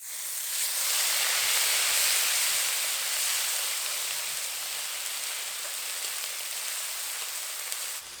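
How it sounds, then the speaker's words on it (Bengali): Onion paste fries in hot oil with a bay leaf, green chilies and five-spice, giving a dense, steady hiss like heavy rain that stays loud and even throughout, close by and with no voices. "পেঁয়াজটা এবার হালকা করে ভেজে নেব"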